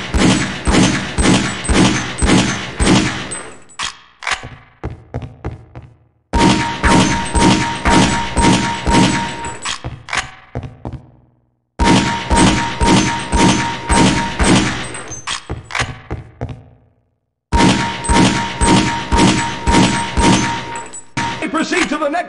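Four rapid volleys of pistol shots ring out on a military boot camp firing range in a video game, each burst a quick string of loud sharp cracks with metallic clangs, separated by brief pauses.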